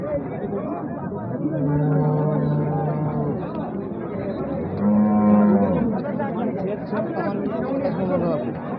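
Crossbred bulls at a busy Bengali cattle market, with two long, deep moos rising above a crowd's steady chatter and nearby talk.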